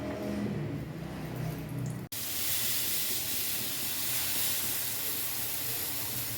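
Two eggs hit a hot pan on the stove: after a quiet stretch, a sudden loud hiss bursts in and holds as a steady, close sizzle.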